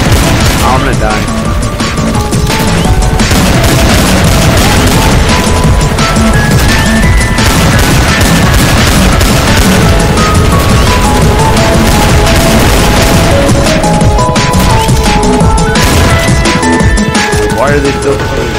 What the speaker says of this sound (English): Keep shooting the alien. Shoot the alien.